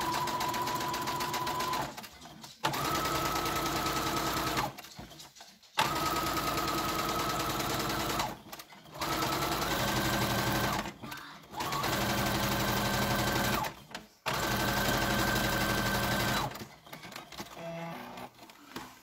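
A sewing machine topstitching fabric for a spring scarf, running in several steady whirring bursts of a couple of seconds each separated by short pauses, close and fairly quiet.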